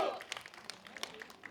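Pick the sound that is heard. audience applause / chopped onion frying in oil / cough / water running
audience applause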